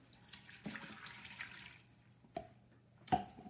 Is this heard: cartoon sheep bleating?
no